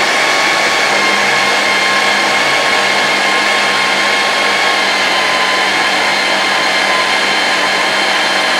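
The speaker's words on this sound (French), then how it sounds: "Et là, on va mixer." A kitchen blender whirs loudly and steadily as it purees garlic and ground ivy, a dense, unbroken high-speed motor whine with no talking.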